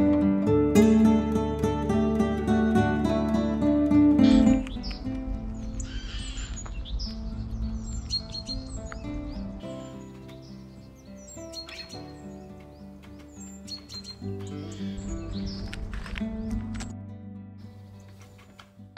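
Wild birds chirp and call around a squirrel feeding spot in Tentsmuir woodland, Fife, with repeated bright tweets over a layered musical background.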